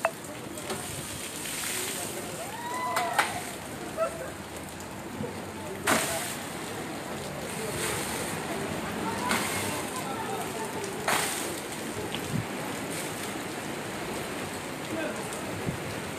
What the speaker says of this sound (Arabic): جل مناطق المغرب الحبيب تتعرف تساقط أمطار هذه الأيام